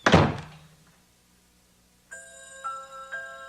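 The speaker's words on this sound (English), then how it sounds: "The scream faded away as Janine slammed the door." A sharp, loud door slam in an audio drama lands right at the start and fades quickly, followed by quiet and then soft chiming tones.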